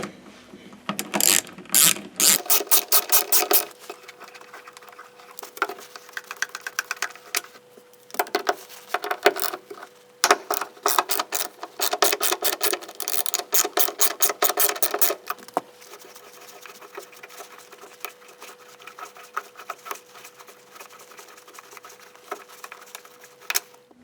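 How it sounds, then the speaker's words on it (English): A ratchet turns out Torx size 30 bolts from the trunk lock of a Peugeot 307 SW. Fast bursts of sharp clicking come close up, broken by short pauses and a faint steady hum, with no talking. "there are two bolts here that you need to remove. Another star-shaped key, this time size 30"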